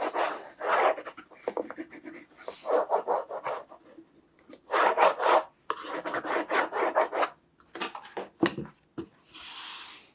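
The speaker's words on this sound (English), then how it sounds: "I'll take my bone folder and make sure it is connected nicely." A bone folder rasps back and forth over the paper seam of a handmade box in repeated short strokes, close and dry, with no talking.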